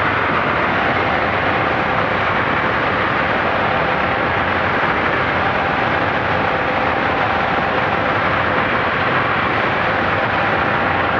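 Steady, unbroken drone of a Zenith CH 750 Cruzer light aircraft with a UL350iS engine in cruise flight, heard from inside the cabin as a constant broadband roar with no talk.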